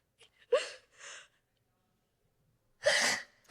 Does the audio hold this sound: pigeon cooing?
no